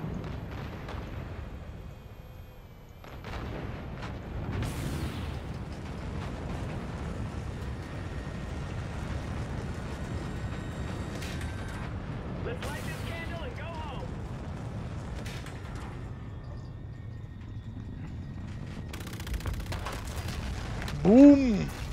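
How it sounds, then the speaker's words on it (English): A tower is detonated in the sci-fi shooter Call of Duty: Infinite Warfare, a loud, sustained rumbling roar with deep booms and bursts over about twenty seconds, ending in a sharp blast, with game voices talking under it. "Let's get visual on that tower detonation."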